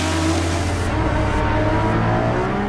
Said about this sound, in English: One of the greatest noises, certainly the loudest noise in this batch, Erin Baker, is the Lamborghini Essenza.